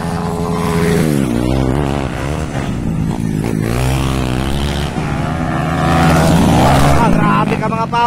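Underbone motorcycles with 4-valve engines race at Barangay Batangan, Valencia City, their engines revving loudly and changing pitch throughout, heavily overlaid by continuous excited commentary from an announcer.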